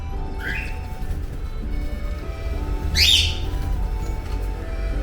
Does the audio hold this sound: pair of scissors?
no